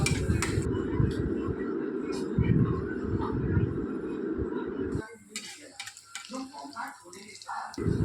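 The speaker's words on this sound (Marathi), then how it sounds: "आता हे याच्यात डीप करायचं बेसन पिठामध्ये आणि तळून घ्यायचं हे डीप फ्राय मी आधीसाठी करत आहे" Besan-battered patties deep-fry in hot oil with a dense, steady sizzle for about five seconds, which then drops to a quieter crackle with a few clinks from utensils.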